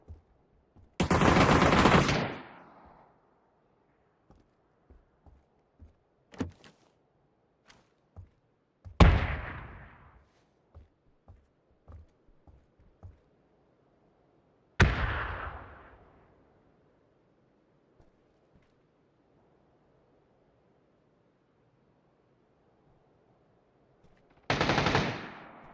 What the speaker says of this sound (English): Got a sniper somewhere close.